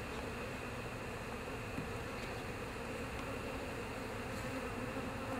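A dense, continuous buzz of many honeybees swarming at a hive, steady and enveloping with no pauses, heard up close.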